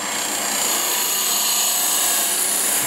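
A Badger swan neck hollowing tool cuts into spinning wood on a lathe, giving a continuous close, bright scraping hiss that holds steady throughout.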